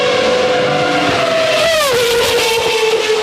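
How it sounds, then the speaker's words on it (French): A Renault Espace minivan fitted with a Formula 1 V10 engine screams at high revs, a loud sustained whine that dips briefly as it shifts, then climbs again, close and continuous. "ils ont tout simplement eu l'idée de mettre un moteur V10 de Formule 1 dans une Renault Espace"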